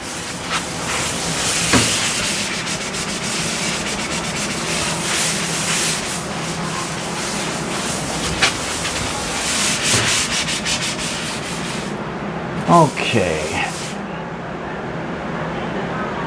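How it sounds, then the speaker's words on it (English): A laminate countertop is rubbed with a hand sanding block in a long stretch of steady, scratchy strokes. The sanding stops near the end, leaving a few separate knocks and scrapes. "Now we're going to take the sand block."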